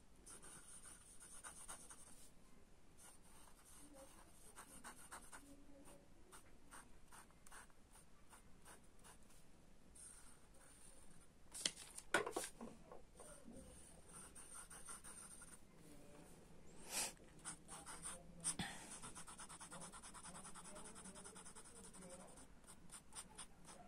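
A Platinum 3776 fountain pen with soft fine and music nibs scratches and glides across paper in a steady run of close, quiet strokes, with occasional louder taps and rubs.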